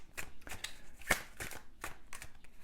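Tarot cards being shuffled, a quick series of soft riffling bursts and slaps, close and fairly quiet, with no talking.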